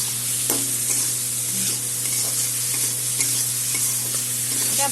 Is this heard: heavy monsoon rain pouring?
no